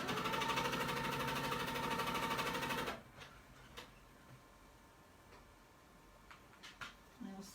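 A sewing machine runs a steady, rapid test stitch in white Aurifil thread, stopping abruptly about midway, followed by faint scattered clicks and handling noises.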